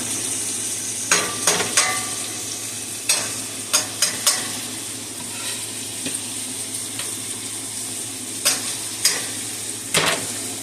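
Green peppers and garlic sizzle steadily in a hot pan, with repeated short scraping stirs of a utensil against the pan at close range and no talking.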